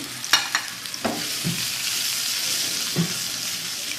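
Small chicken pieces cook in a hot pan without oil, making a soft continuous sizzle broken by a few sharp clinks and scrapes of stirring near the start and end, with no talking.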